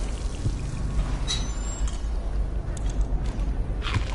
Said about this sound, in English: Good thing I get mana when I drink water.